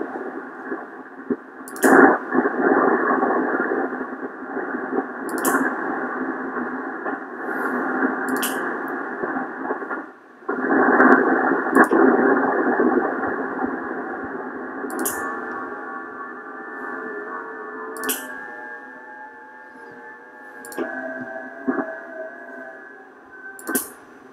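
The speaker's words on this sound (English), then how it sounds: "Static level." Static hiss fills a band-limited receiver channel on a Ten-Tec Pegasus amateur radio, loud and steady. It drops out briefly several times and shifts in tone as settings change, with sharp clicks at intervals.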